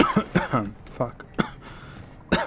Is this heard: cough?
yes